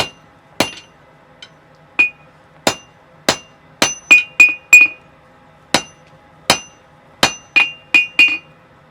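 Hammer blows ring on hot steel while forging v-bit tongs: a string of sharp, loud metallic strikes, single at first, then in quick bursts of two and three, each ringing briefly before the next, with no talk.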